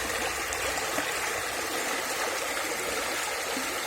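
A flowing stream runs steadily and close by, a dense continuous wash of rushing water with no break and no voices.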